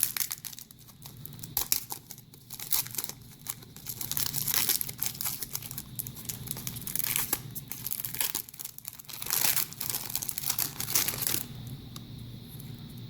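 A 1994 Topps Series 1 baseball card pack wrapper is crinkled and torn open, giving a close, continuous stretch of papery crackling and tearing with no talk over it.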